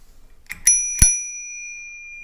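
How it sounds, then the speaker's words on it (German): A small bell on a 20-inch single-speed folding bicycle rings twice, two bright metallic strikes close together, the second ringing out and fading slowly, loud and alone. "Schöne kleine Klingel hat es auf alle Fälle."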